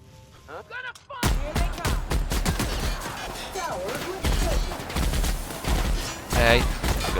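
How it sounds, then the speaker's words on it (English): Rapid gunfire from a minigun-like weapon that seems to shoot nails, in The Outer Worlds, rattles loudly and almost without a break after a short quiet start, with a voice talking over it. "It's like a minigun, but it kind of feels like it shoots nails when you see the actual the way how it shoots"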